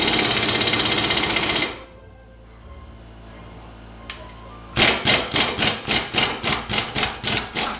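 An impact wrench tightens a bolt on a 1995 Chevy Suburban. A loud steady whir cuts off into a lull broken by one click, then comes a close, loud series of about ten rapid, evenly spaced hammering bursts.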